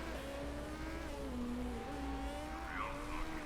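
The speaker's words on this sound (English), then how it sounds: "You can definitely tell the difference in the engine she's got compared to, I want to say, 2 races ago." A race car engine in the racing management video game Motorsport Manager drones steadily with a shifting high whine, faint and continuous throughout, with no talk over it.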